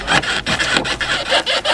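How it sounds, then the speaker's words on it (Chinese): An iron bar pries back and forth against a worn, broken rear engine mount on a car, giving rhythmic scraping and rubbing strokes, about eight in quick succession, close and fairly loud. "我们用铁棍撬动一下"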